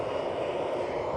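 A Qantas airliner takes off from runway 03, its jet engines producing a steady, broad roar heard from a distance without any talking.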